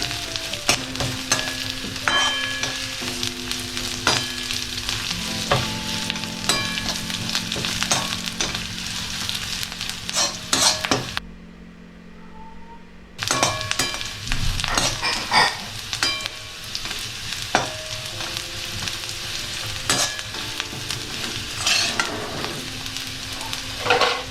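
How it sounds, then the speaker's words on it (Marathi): Poppy seeds roast in a pan for homemade Maharashtrian chivda, giving a steady light sizzle and intermittent stirring scrapes under background music, with a brief quiet gap midway. "अर्धा चम्मच खसखस टाकतोय. याला सुद्धा छान भाजून घेणे"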